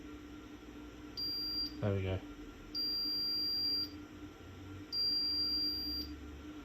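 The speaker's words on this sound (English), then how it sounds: "somewhere slightly before we should get a single LED and a beep" A Sinclair C5 control board gives thin, high electronic beeps, three sustained tones of about a second each, separated by pauses over a low hum, with a brief spoken remark between the first two.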